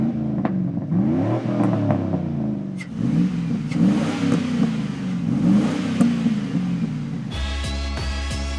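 A 2004 Chevrolet Silverado 1500 street truck with a 5.3 V8 revs hard through a MagnaFlow Street exhaust, rising and falling in repeated loud blips before settling into a low, rumbling idle.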